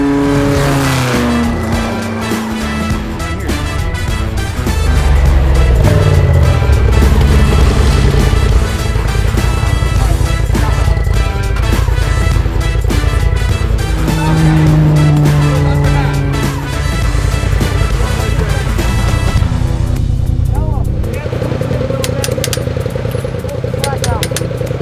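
An off-road Razor side-by-side in a Baja race revs hard and continuously, its engine roar loud and close throughout with shifting pitch, while people talk over it.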